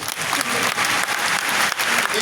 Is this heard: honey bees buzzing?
no